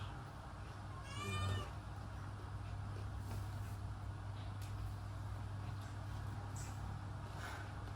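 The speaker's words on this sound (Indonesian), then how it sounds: "Gara-gara kucing nih ganggu." A single cat meow rises briefly over a steady low background hum, then only the quiet drone continues.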